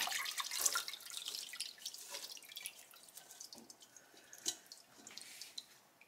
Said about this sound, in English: letting this drip